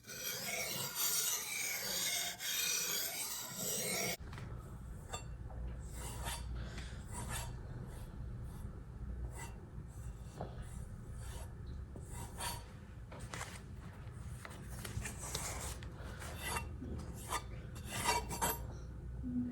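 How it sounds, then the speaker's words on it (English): A kitchen knife rasps back and forth across a sharpening stone in close, quiet, repeated strokes, preceded by a brief hiss at the start, with no talking. "You hear that first slide on the side of the knife, and then it's like super rough."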